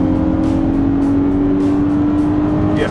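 A 2020 VW Atlas Cross Sport V6 accelerating hard, heard from inside the cabin as a loud, continuous engine drone with a steady rising tone under constant road noise, with no talking.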